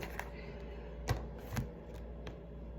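A tarot card deck being shuffled up close and quietly, with soft continuous riffling broken by a few sharper taps and slaps of the cards, and no talking.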